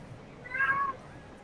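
A single short cat meow in the Fortnite video game, faint and brief, heard alone over quiet background.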